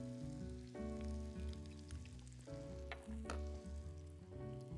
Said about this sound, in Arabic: ونقلب كل المكونات دي مع بعضها